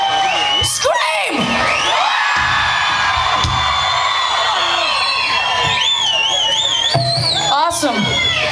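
A concert crowd at an outdoor Memorial Day balloon festival in El Paso screams and cheers steadily for several seconds, with loud whoops and high shrieks rising above a dense, continuous roar.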